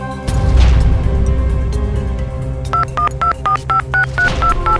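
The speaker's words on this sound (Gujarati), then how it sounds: "આપણી મહેફિલમાં ફોન ખલેલ પહોંચાડે છે." A phone rings during a gathering of friends, a run of evenly spaced electronic beeping tones over low background music and room noise, fairly close and clear with no talking.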